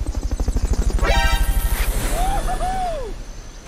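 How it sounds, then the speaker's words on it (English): A helicopter in the Metal Gear Solid: Peace Walker video game thumps with a steady rapid rotor beat, loud and close, while a whooshing sweep and brief tonal game effects rise over it. "Fulton recovery subject confirmed onboard helicopter."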